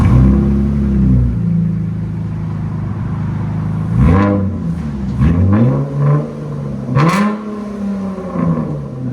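A 2019 Dodge Charger 3.6L V6 with Dynomax Race Bullets idles with a deep, steady exhaust rumble, then is revved several times in sharp, close, loud bursts that rise and fall back to idle.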